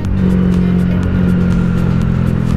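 Motorcycle engine revving close by, a loud droning hum with a strong steady low tone and quick repeated pulses of higher noise, continuous with no talk.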